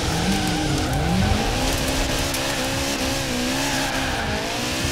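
Cars in Forza Horizon 4 drift with steady tire squeal over roaring racing engines, a continuous loud blend with shifting pitch and no talking.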